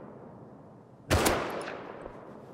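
A single loud gunshot in Rust rings out near the player after a quiet stretch. It leaves a decaying echo with a faint smaller crack afterward, and no one speaks.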